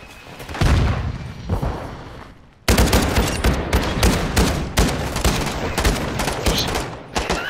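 Heavy gunfire in Call of Duty Modern Warfare II, dense rapid bursts of shots and booming blasts, loud and continuous after a brief lull, no clear talk over it.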